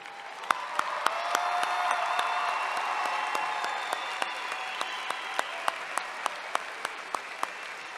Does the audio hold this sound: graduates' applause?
yes